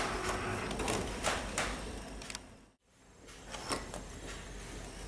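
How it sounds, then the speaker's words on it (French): A Cricut Imagine cutting machine runs through a cut, giving a steady mechanical whir with repeated faint sliding passes, a brief gap near the middle, then resuming close by and alone. "ça a découpé comme votre simple Cricut"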